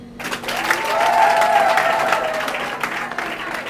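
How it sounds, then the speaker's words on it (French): Guests applauding at a civil wedding, close and lively clapping with a few voices mixed in, swelling after a quick start and holding steady before thinning slightly toward the end. "sous vos applaudissements."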